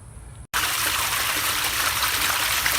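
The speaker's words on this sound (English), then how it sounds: "because it causes the water to flow out" Water from an above ground pool pours out in a steady, loud rush after a brief silence, a continuous close splashing flow with no voices.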